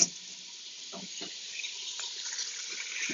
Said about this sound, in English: I'm going to quickly rinse this onion.